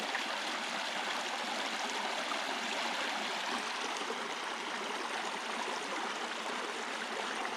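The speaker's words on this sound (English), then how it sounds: "There's your waterfall." Waterfall on the Grand Portage trail in Minnesota, a continuous broadband rush of falling water, steady and fairly distant, with no voices.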